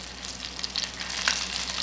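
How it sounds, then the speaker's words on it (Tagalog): Cornstarch-coated prawns deep-fry in hot oil, giving a soft, continuous sizzle with scattered crackling pops, faint and close, with no voices. "So, ilagay na natin dito yung ating sugpo na may cornstarch at ilalagay lang natin dito. Yan, ipiprito lang natin. O diba, i-deep fry lang natin."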